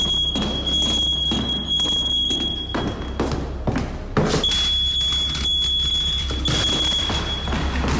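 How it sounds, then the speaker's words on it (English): A shrill, piercing smoke alarm beeps in repeated bursts, with heavy thuds and rustling movement underneath. "she is alerted to the sound of the smoke alarm going off"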